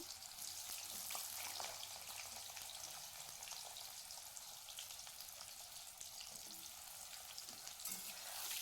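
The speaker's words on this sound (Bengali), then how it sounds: "আমি এখন বর্তমান সেই তেলে কাঁচা কলাটাকে ভেজে নিচ্ছি" Raw plantain frying in oil for a vegetarian labra curry, a steady close crackling sizzle that runs without a break, with faint stirring scrapes now and then and no voices.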